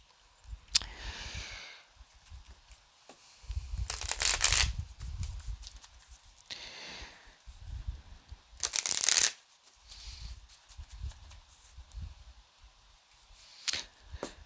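Oracle cards from the Wisdom of the Oracle deck being shuffled, giving several separate bursts of riffling and slapping clatter spread across the clip, with quiet gaps between them and no voice.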